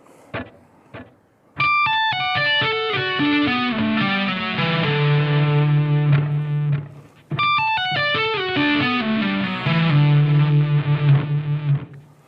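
Slow electric guitar lick through distortion and effects, a descending run of picked notes settling on a sustained low note, played twice with a pause between, alone and fairly loud.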